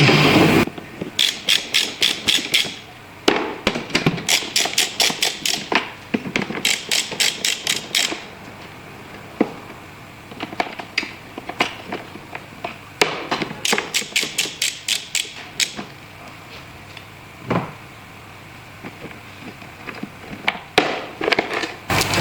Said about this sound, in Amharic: እንግዲህ አራቱን ብሎኖች እንፈታለን።